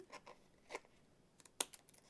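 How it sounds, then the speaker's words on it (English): Quiet, close snips of small fine-detail scissors trimming paper for a card craft, a few sharp clicks spaced irregularly in near silence. "I will turn this over with my little fine detail scissors and trim"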